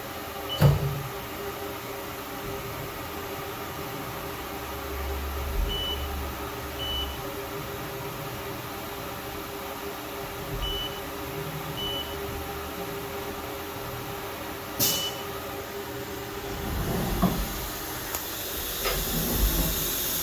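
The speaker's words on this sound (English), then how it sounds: "So now I just hit cycle start and it should probe this part." A CNC machine probing a part for a tube chassis RC monster truck build hums steadily, with soft intermittent beeps, a couple of brief motor whirs and a sharp click, ending in a rising hiss.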